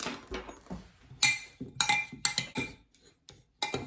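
Spoon clinking and scraping against a bowl while brown sugar and other ingredients for a Jiffy Swedish tea ring are stirred together, a run of close, irregular taps and clatters with short pauses.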